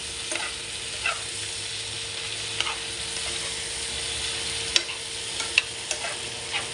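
Eggplant adobo (adobong talong) stirred as it fries in a pan, a steady close sizzle broken by scraping spoon strokes and a few sharp clinks, with no talk.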